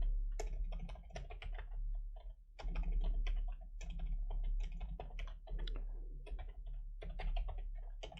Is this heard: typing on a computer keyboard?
yes